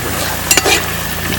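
A seer fish head frying in a pan with a steady sizzle, broken by a brief scraping clatter as it is flipped over.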